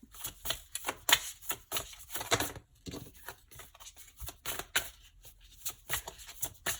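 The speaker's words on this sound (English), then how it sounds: "I need to give them a good shuffle." Quick bursts of tarot cards being riffled and shuffled, a rapid flurry of flicks followed by several shorter shuffles, close and fairly soft.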